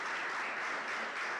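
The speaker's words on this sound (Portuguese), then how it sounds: "Você pode aplaudir o Senhor Jesus." A church congregation applauds during a worship service, a steady wash of clapping that holds at an even level through the short stretch without voices.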